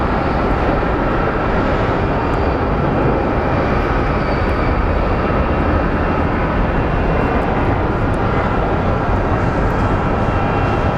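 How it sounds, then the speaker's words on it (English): A CRJ regional jet lands at Phoenix Sky Harbor Airport, heard as a loud, steady broadband engine roar that fills the whole stretch without fading, with no voices over it. "we do have our CRJ coming in from landing from Palm Springs."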